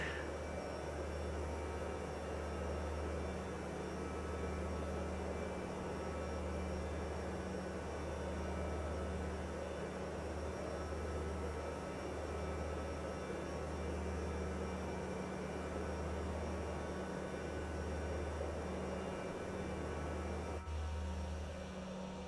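Jet engine in the Microsoft Flight Simulator 2024 game hums as a steady, low, continuous drone with a faint pulsing, even and unbroken throughout, no speech.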